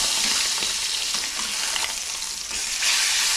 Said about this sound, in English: let's see how those pork chops are doing